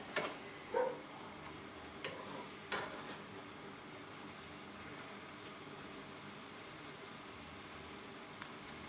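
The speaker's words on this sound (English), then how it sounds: "just let the whole lot simmer for a little while until they're softened" Plums simmering in a pan, a soft steady bubbling sizzle with a few faint clicks and taps near the start, no talk.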